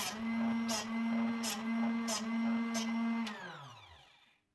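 A Drill Doctor XP drill bit sharpener grinds a drill bit with a steady motor whine broken by rhythmic rasping pulses about every 0.7 seconds, then spins down as the motor stops.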